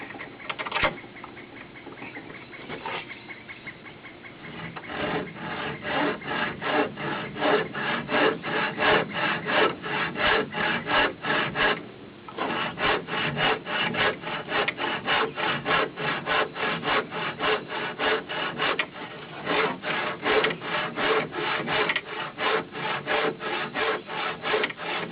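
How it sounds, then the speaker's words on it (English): A small bow saw cutting wood held in a vise for a mallet, in fast, steady back-and-forth strokes, close and continuous, with one brief pause midway. "Just get my little bow saw here and start my cut"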